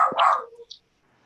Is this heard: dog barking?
yes